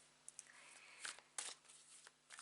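A tarot card deck is shuffled in quick soft riffles, several short papery bursts spread across a few seconds, close and quiet with no talk.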